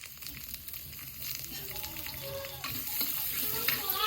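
Mustard seeds, cumin and chopped garlic sizzle and crackle in hot oil for a tempering while preparing an onion chutney, a steady close hiss that grows louder partway through, with light stirring and no talk.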